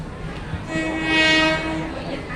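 A train arriving at Mahachai railway station sounds its horn in one long, swelling blast over the rumble of rolling rail cars, loud and close.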